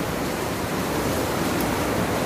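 Heavy rain pours in a dense, even wash of noise, loud and unbroken for the whole moment.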